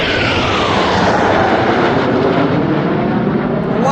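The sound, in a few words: Surya Kiran fighter jets flying over an air show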